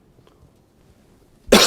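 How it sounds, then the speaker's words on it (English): A person at a talk on planning coughs once, a sudden loud harsh burst after a quiet near-silent stretch. "Apologize for my coughing."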